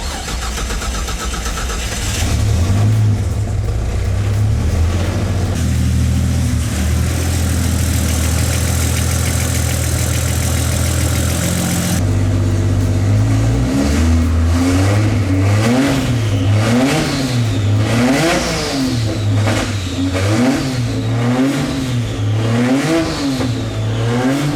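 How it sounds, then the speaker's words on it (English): Turbocharged Barra engine rated at 770 horsepower in a drift wagon cranks over on the starter and fires up, then settles into a rough idle before a series of sharp, repeated revs, loud and close. "Turn the injectors on and kick her over."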